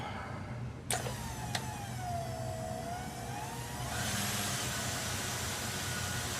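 An electric buffing wheel spinning at high speed polishes a turned wooden tool knob, giving a steady motor whine with a gliding tone and a louder, rougher hiss partway through as the piece is pressed against it.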